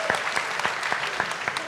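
Audience applause at an interview event, a brief burst of steady, close clapping with individual claps audible throughout.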